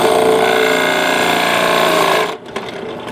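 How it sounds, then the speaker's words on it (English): Power drill countersinking a mounting hole in a 1x4 board, a loud steady whirring motor whine for about two seconds that then cuts off, leaving faint handling clatter. "First thing I'm going to do is countersink the mounting holes at each end just slightly"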